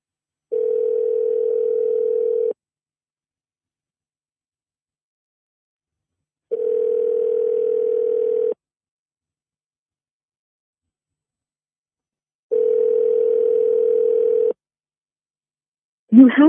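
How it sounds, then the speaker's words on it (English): A phone ringback tone sounds while a call is placed: three identical steady purring tones, each about two seconds long and separated by about four seconds of silence. It is clear and even, with a brief noise at the very end. "I am calling the phone of Miss Jasmine Paul again"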